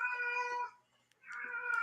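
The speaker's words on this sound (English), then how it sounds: "my cat is going crazy" A pet cat meowing indoors, two drawn-out, fairly loud meows separated by a brief pause.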